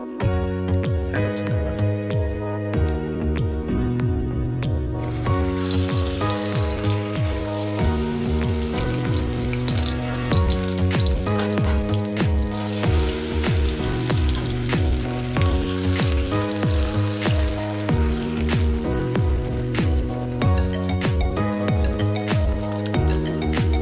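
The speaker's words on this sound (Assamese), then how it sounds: "এতিয়া মই ধুনীয়াকৈ তেল গৰম কৰিছোঁ। পকৰা যেনেকৈ ফ্ৰাই কৰে তেনেকৈ ফ্ৰাই কৰিম।" Soya chunks frying in hot oil, pakora-style, a continuous loud sizzle and crackle with rhythmic stirring and clinking of a utensil against the pan throughout.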